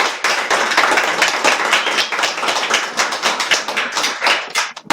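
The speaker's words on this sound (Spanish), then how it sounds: "Vamos a darle un aplauso." Audience applause at a comic book launch presentation, a dense, steady wash of many hands clapping close and loud throughout, with no talk over it.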